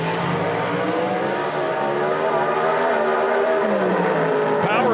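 A Mountain Motor Pro Stock drag racing car's engine roars loud and close, a sustained high-revving howl with shifting pitch, under a commentator's voice at a drag strip.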